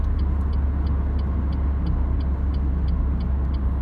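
A Renault Clio 1.5 station wagon is heard from inside during a full-throttle 0–100 run, with a loud, steady low engine drone and road rumble and no talk.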